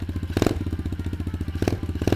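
A cheap Temu dirt bike engine catches and idles with a rapid, steady putter, nearby and loud, with clattery mechanical knocks and a couple of brief blips of throttle.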